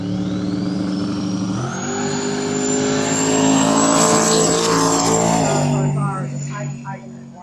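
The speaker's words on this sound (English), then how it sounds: "This sounds like a wicked little car." A race car engine revs hard and climbs in pitch, then drops back as it passes, loud and close with a faint whine on top, at the Burt Munro Challenge in Invercargill, New Zealand.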